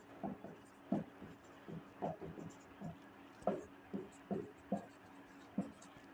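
Chalk tapping and scraping on a classroom board during a biology lesson on the digestive system, about a dozen short, evenly spaced strokes heard close and fairly quiet, with no talking.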